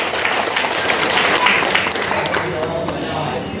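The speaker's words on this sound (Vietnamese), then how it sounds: "Xin một tràng pháo tay được không ạ?" An audience claps at a cosmetics company's honoring ceremony, producing sustained, dense applause that fills the hall at full volume and tails off slightly toward the end, with voices mixed in.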